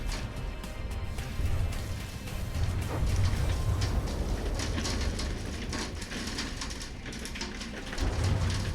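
Heavy hail and a thunderstorm in the From the Depths video game, a dense loud roar of hailstones hammering down continuously with deep rumbles of thunder rolling underneath throughout.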